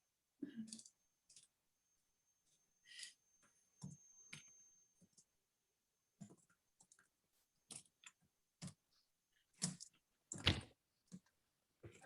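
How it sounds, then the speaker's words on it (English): Fast typing on a keyboard: quick irregular clicks and taps come in uneven bursts, close and fairly quiet, separated by short silent gaps. "I'm just typing very fast"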